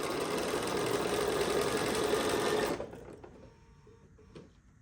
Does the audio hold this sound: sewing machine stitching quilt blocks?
yes